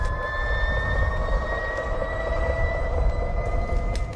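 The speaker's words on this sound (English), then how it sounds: "A lot of the people who have ridden this motorcycle say it sounds like a jet turbine" A Harley-Davidson LiveWire electric motorcycle motor gives a steady, jet-turbine-like whine, several high tonal lines gliding slowly over a continuous rumble, holding fairly even and moderately loud throughout.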